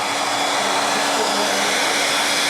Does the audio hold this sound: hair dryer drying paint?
yes